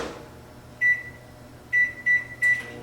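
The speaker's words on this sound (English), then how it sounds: "I'm going to put it in the microwave for about 2 minutes, and that will cook my frozen corn" Microwave oven heating frozen corn in a little water: a steady low hum under four short, loud electronic beeps, one alone and then three spaced close together.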